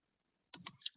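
Three quick computer mouse clicks, close and crisp, in a short tight cluster after a moment of silence.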